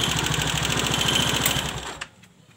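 Viar three-wheeled motorcycle engine idles with a rapid, even mechanical clatter that stays steady before abruptly cutting off near the end.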